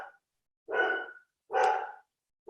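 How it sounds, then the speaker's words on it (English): A dog barks indoors three times in quick succession, each bark short and fairly loud with silent gaps between, heard alone without talk. "Sorry, that's my dog."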